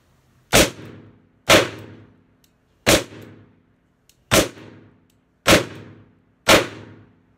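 Six loud, sharp shots from a Colt Python .357 Magnum revolver firing 158-grain ammunition double action, each a hard crack with a brief ringing tail, spaced about a second apart with silence between.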